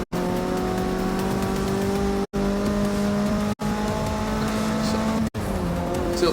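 A Mazda race car in the Forza 6 racing game runs at sustained high revs, a loud steady engine drone with brief cuts at gear shifts, with tire noise layered in.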